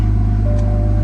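A BMW M2 idles with a steady low engine hum and a constant tonal drone after starting, close and loud throughout a brief moment with no talk.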